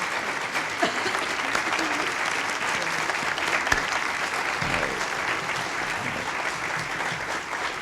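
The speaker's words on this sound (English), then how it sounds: "That applause is for you, not me." Sustained clapping from a formal White House audience greeting the President and Mother Teresa, a dense, even wash of hands with a few sharper claps standing out.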